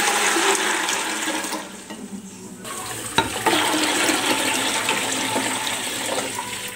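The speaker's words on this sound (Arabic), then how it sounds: "بعد كده هضيف الميه بتاعتي" Water gushes steadily into a pressure cooker holding fava beans, a dense close splashing that pauses briefly and then resumes with a small clunk before cutting off.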